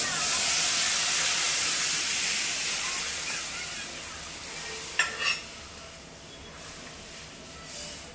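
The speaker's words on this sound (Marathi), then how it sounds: "आणि आपली डाळ टाकून घ्यायची आहे त्यात." Lentils hit hot oil spiced with asafoetida in a pan, giving a loud, steady frying sizzle and hiss that gradually fades, with a few brief clinks toward the end.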